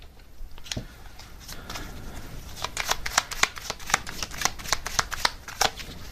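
Tarot cards being shuffled and drawn, a run of crisp riffling snaps and flicks, sparse at first and then quick and dense, close up with no talking.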